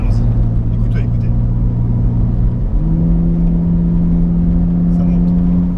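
A BMW Z4 3.0i accelerates hard along a straight road, its engine note droning loud and close from inside the car, with one gear change partway through before the pitch climbs again.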